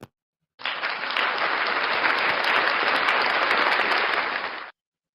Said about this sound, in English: let's also give a round of applause to strong black men